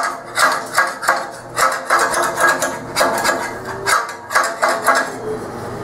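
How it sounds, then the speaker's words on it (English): A chipping hammer knocks dross off freshly plasma-cut steel: a rapid run of sharp metallic raps, about two or three per second, close and fairly loud, with no talk over them. "What you can do is just take a chipping hammer."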